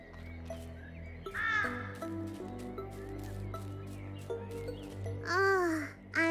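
Crows caw in short, bright bursts over soft woodland ambience in Little Misfortune, a couple of calls standing out near the start and end amid a quiet background.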